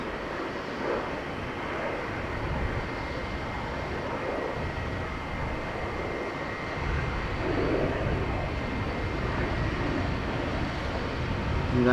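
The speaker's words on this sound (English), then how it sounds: "This jet taking off." A jet airplane taking off at Amsterdam Schiphol Airport, a steady broad roar heard from a distance that holds for the whole stretch and swells slightly toward the end.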